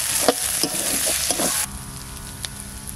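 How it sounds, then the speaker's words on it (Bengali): Ground spice paste for a duck egg curry frying in a pan, a loud continuous sizzle with stirring scrapes that drops to a quieter hiss partway through. "এবার এই বাটা মশলাটা দিয়ে দিচ্ছি।"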